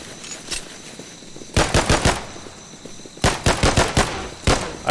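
Rapid bursts of gunfire from the tower defense video game Volcan Defend the Tower, two separate volleys of sharp repeating shots, loud and close, with a quiet pause between them and no talking.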